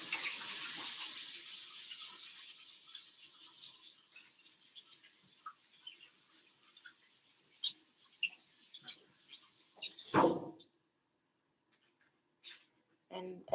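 Running tap water rinses peeled cactus fruit in a sink, a steady hiss that slowly thins out over about ten seconds with small clicks and knocks, then a sharp clatter before near silence.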